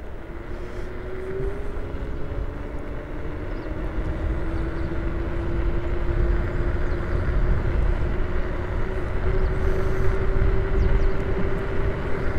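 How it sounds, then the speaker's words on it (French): An electric scooter speeding up in maximum power mode on a flat road, a steady whine rising slowly in pitch over heavy wind rush and road rumble, loud and continuous. "petit test de vitesse sur une route à peu près plate. C'est parti, mode maximal"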